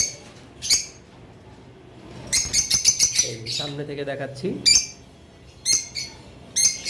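Lutino red-head lovebirds give bright, sharp chirps in repeated bursts. The calls come close and loud, with someone speaking over and between them.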